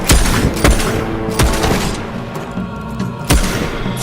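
Gunfire during a sword-and-gun battle in the video game Fable III: several loud, sharp shots at irregular intervals over a dense rumbling background of combat noise.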